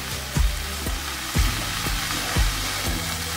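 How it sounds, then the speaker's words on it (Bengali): Red amaranth greens with coconut being stirred in a frying pan: a low background sizzle with about four distinct, evenly spaced scraping thuds of the spatula, close and moderately loud. "একটু উল্টে পাল্টে দিলাম নাড়াচাড়া করে"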